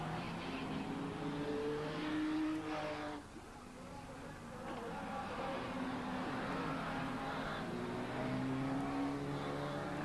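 Banger race cars, Ford Granadas among them, roar around a track in a continuous loud engine drone with revving and passing swells, while a commentator talks over it.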